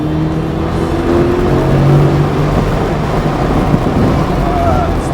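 A race car at an Xtreme Xperience track day drones with a loud, steady engine note that rises slowly in pitch as it accelerates, with voices talking over it.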